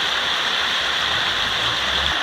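River water flows over rocks on the Tamagawa Josui near Hamura, fed by water returned from a treatment plant. The rushing comes from close by and holds a loud, steady burble, with no speech over it.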